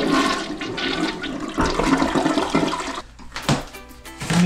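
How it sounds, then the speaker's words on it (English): A toilet flushes loudly with a rushing, gurgling swirl of water that continues throughout, close by and with no voices. "everybody wants to see a toilet flush"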